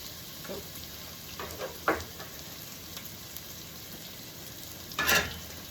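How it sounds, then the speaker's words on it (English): Onions sweat in a pan with a soft, continuous frying sizzle, and a few brief stirring scrapes come through close by. "Onions in the pan. Just gonna sweat them."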